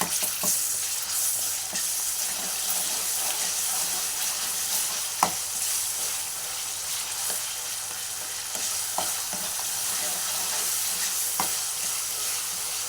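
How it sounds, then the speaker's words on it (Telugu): Ginger paste is stirred into mutton and cucumber curry frying in a pan: a steady, close sizzle with occasional sharp utensil scrapes and taps, no talking. "అల్లం పేస్ట్ కూడా వేసుకొని బాగా కలుపుకోవాలి."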